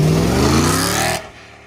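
A BMW M3 E92 V8 revs hard up to a high, loud roar that climbs in pitch, then cuts off sharply about a second in.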